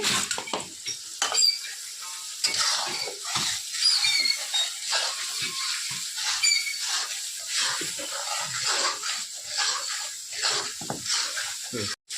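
Masala and meat frying in a pan while being stirred, a steady close sizzle with scraping stir strokes throughout, moderately loud, with a voice talking briefly over it.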